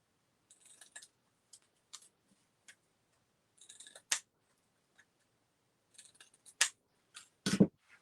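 Scissors snipping a small item for sweet pea sowing, with quiet scattered clicks and several sharp close cuts, the crisp snips spaced irregularly in an otherwise silent room.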